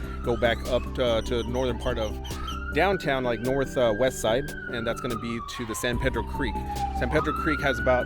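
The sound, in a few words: emergency vehicle sirens in San Antonio street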